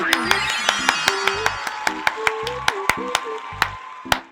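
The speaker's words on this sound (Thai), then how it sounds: "ปรบมือครับ" A sharp, regular clapping rhythm from a Thai YouTube host's show, each clap a crisp snap that sounds steadily over a voice and tonal background for about four seconds.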